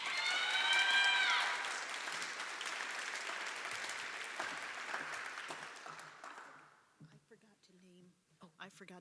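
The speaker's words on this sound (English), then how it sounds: "Please applaud louder for Sarah." Audience applause at a university research symposium in a hall, loud and dense at first, then thinning and fading out after about six seconds, followed by a voice speaking alone.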